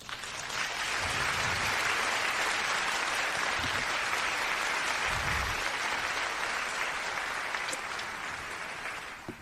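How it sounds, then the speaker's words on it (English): A room full of people gives a round of applause, broad continuous clapping that swells in within the first second, holds steady and loud, then eases slightly toward the end, with no talking over it. "Round of applause."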